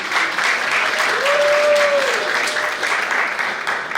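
Sustained applause from an audience at a political forum, steady dense clapping throughout with a faint whistle or tone rising and falling midway.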